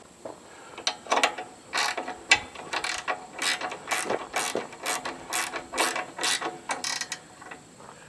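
A hand ratchet clicks in quick, uneven bursts while tightening a case drain line fitting on a Caterpillar 308E2 excavator. The close, crisp pawl ticks come in several runs with short pauses between them.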